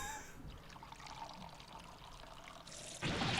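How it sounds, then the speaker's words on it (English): Hot tea poured in a video game scene, a soft steady trickle of liquid running for a few seconds, then a sudden louder splashing rush at the end, quiet overall. "You're pouring scalding hot tea all over me."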